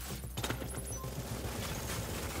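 Rapid gunfire pounds a fortification during a Last Stand match in a video game, a dense steady barrage of shots with sharp bursts over a continuous low rumble.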